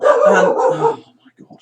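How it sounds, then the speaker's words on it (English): A dog barks loudly and close by in a short burst indoors, with a person's voice mixed in over it, followed by a few faint yips. "excuse the dog"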